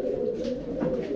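Pigeons coo close by in a steady, low, throaty run of calls lasting the whole moment, with no one talking over them.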